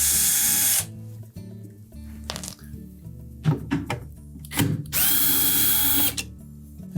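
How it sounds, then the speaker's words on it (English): A power drill unscrews hex head screws from a Whirlpool refrigerator's front grill, whirring in two short bursts separated by clunks and handling noise, close up. "It's held in place with 2 1/4-inch hex head screws. So begin by removing both of those."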